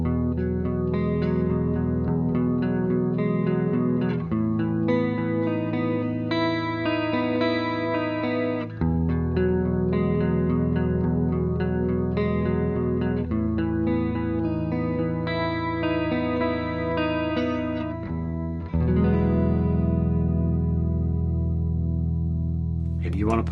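An electric guitar plays a clean tone through a Fractal FM3 / Axe-FX modeller, sustained chords and arpeggios ringing with chorus-like shimmer and steady level, changing chords every few seconds.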